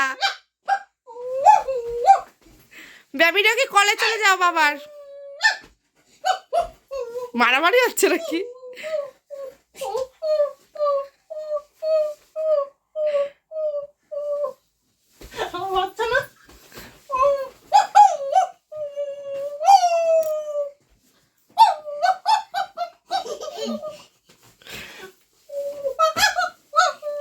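A voice imitates a dog in a playful home scene with a baby, giving repeated short whimpering yelps, barks and drawn-out howls in quick bursts, mixed with her talking.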